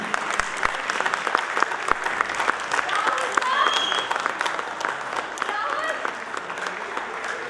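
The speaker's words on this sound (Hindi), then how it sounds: "जोरदार तालियां के लिए" Sustained theatre audience applause at a comedy play in a Hindi-language venue, a dense steady patter of many hands clapping at moderate volume with scattered chatter and cheers mixed in.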